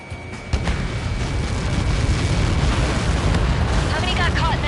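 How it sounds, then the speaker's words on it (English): A missile impact explosion in the combat flight game Ace Combat 7 sets off a sudden heavy blast, followed by a sustained loud rumbling roar with faint sweeping tones near the end. "How many got caught in that explosion?"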